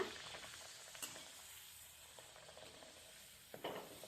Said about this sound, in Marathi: सर्व आपण पुऱ्या तळून घेऊया